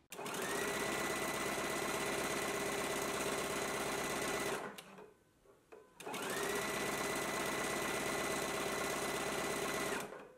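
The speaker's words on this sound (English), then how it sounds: "So I am going to use a zigzag stitch for the side seams." A sewing machine zigzag stitches side seams in two loud, steady bursts of fast mechanical whirring, stopping for about a second near the middle before starting again.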